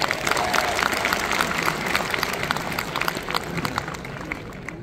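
Audience applause at a Hindi-language product launch for a made-in-India shilajit supplement, a dense steady patter of many hands clapping throughout, moderately loud with crowd noise mixed in.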